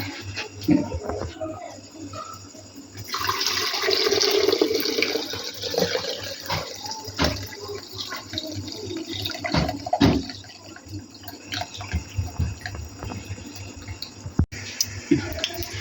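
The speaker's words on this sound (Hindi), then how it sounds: "अब हम इसकी ना यखनी को छान लेंगे ऐसे" Chicken stock (yakhni) strained for pulao, pouring as a steady splashing stream of liquid, strongest in the middle, with clinks of utensils and faint kitchen handling around it.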